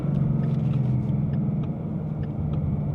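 A 2015 Ford Mustang 5.0 50th Anniversary edition idles with a deep, steady, close-up engine rumble that stays even throughout, with no voices.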